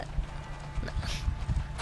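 A horse gallops in the Six-Guns video game, rapid thudding hoofbeats in an uneven rhythm, fairly loud with faint game ambience and no talk.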